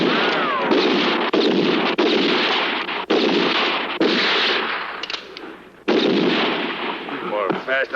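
Rapid gunfire from a gun in a western film, a burst of loud, closely spaced shots with hard breaks between them and ringing tails, alone without talk.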